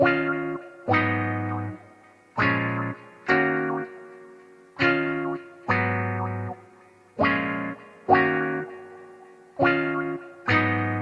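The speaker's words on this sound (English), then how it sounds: "This is some guitar chords." Synthesized guitar chords strummed in a repeating rhythm, each chord ringing with a bright, effected tone and echoing decay.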